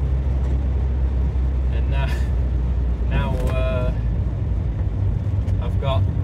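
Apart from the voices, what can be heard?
car driving on the road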